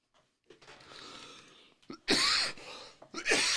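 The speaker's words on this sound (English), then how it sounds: "My inhaler, sometimes it makes me cough more" A person coughs in a few rough bursts after using an inhaler, with breathy throat sounds and brief pauses between them, close to the listener.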